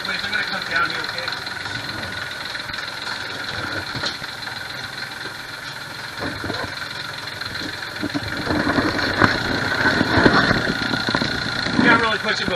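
A boat engine idles steadily with a constant mid-pitched drone and slight knock, revving a little higher toward the end, while people talk nearby throughout.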